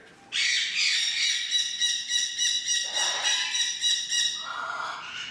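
A special needs Amazon parrot lets out loud, harsh squawks close by, one long sustained burst followed by shorter repeated calls.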